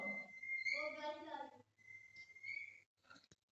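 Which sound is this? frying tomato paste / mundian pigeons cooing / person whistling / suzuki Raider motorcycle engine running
person whistling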